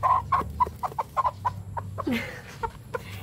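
A rooster clucks in a rapid series of short, close clucks, with a brief rising squawk partway through and a low background hum.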